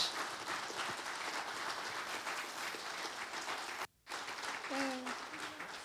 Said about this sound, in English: Can we have a nice round of applause, please, for Sean?